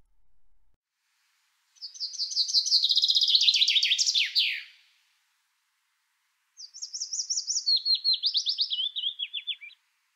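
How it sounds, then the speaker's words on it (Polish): A bright, fast descending chaffinch trill ending in a flourish, then after a pause a chiffchaff's steady, even series of chirpy notes, both clear and close with no background noise. "Najpierw śpiewa zięba, potem piecuszek."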